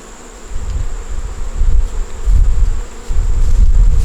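Honey bees swarm around an opened hive, their loud continuous buzz close to the microphone and mixed with low rumbling wind-like gusts, with no talking.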